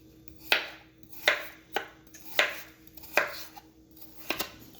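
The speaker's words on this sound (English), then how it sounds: "Now I'm going to cut up the potatoes." A knife chops potatoes on a cutting board, seven or eight crisp, evenly spaced thuds close by, with quiet pauses between strokes.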